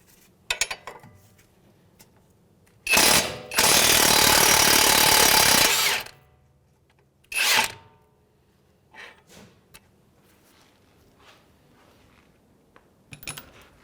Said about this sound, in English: So we're going to use 19 on an impact and a 24mm wrench.